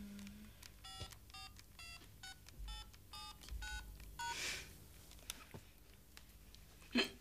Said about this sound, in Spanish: Tengo que hacer una llamada.